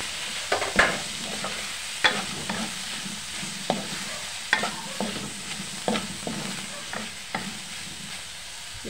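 Chicken stir-fries for pancit bihon guisado, a soft sizzle under repeated sharp scrapes and clanks of a utensil against the pan, spaced every second or so, close and moderately loud with no voices.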